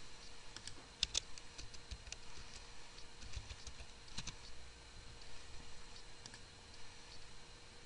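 Light, quiet typing on a computer keyboard, with soft irregular key clicks and a few sharper taps over a faint steady hum.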